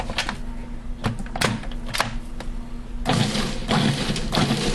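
A food processor grinds basil and garlic cloves for homemade pesto with a steady motorized whir. Uneven clattering pulses run through it, and the grinding grows louder and busier toward the end.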